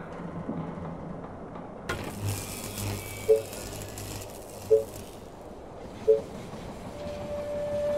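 A train pulls into a station in the strategy game They Are Billions, a low rumbling rolling sound followed by three sharp evenly spaced clanks, moderately loud with no talk over it.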